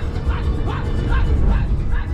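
Hunting dog on a rabbit hunt gives a run of about five rhythmic yipping barks, close and loud, over steady outdoor background noise with some voices.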